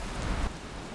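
Steady, dense rain falls in the video game Valheim, a continuous broadband hiss that swells slightly then eases.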